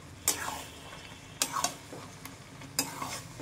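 Boiled potatoes stirred into mutton keema in a pan. Three sharp metal spoon scrapes and knocks land against a soft background sizzle, each followed by a brief rattle.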